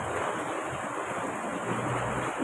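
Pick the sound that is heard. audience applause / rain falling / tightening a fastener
rain falling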